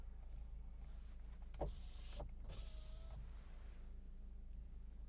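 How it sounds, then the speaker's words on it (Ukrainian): An Opel Zafira's electric power window motor whirs briefly a couple of times, a steady mechanical hum against a quiet interior background with faint low rumble. "Склопідйомники працюють"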